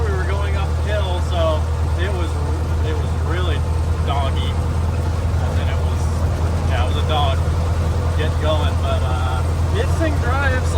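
A 1922 Dodge Roadster drives along with a steady, loud engine drone and road noise throughout, while people talk over it.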